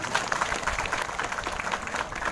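A crowd at an outdoor religious gathering held at a town bus terminal claps for an honoured guest. The applause is a steady, moderately loud patter spread across the audience and lasts the whole moment.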